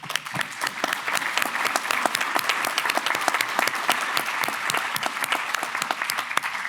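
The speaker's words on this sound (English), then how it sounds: "let's give them a round of applause" An audience claps for the U.S. Army Garrison Alaska team at a defense forum, dense and fairly loud applause with crisp individual claps sustained at a steady level for several seconds.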